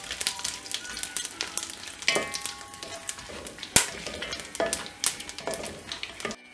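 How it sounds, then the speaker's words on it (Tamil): Whole spices such as biryani flower and fennel fry in hot ghee for Muslim-style chicken biryani, a close crackling sizzle broken by sharp pops, with a ladle scraping and clinking against the pot now and then. "எல்லாத்தையும் ஆட் பண்ணிட்ட உடனே இத நல்லா ஃப்ரை பண்ணிடலாம்"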